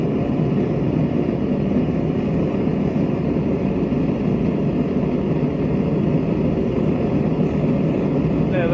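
A gas forge burner in a homemade no-weld forge roars steadily and loudly as the gas is turned up slightly, a dense, even rush of flame noise that holds without a break.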